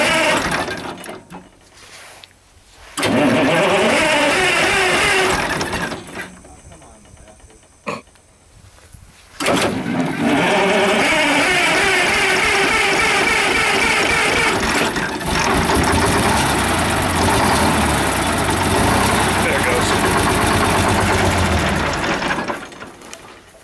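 A Kenworth K100 cab-over truck with a battery that had died cranks and starts, then its diesel engine runs in a loud, rough, rattling idle for a long stretch, with pauses and voices talking nearby.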